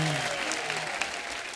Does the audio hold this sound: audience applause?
yes